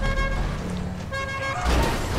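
In GTA Online, a car's horn honks in repeated toots over the vehicle's engine rumble, loud and close, with a brief gap before a final blast.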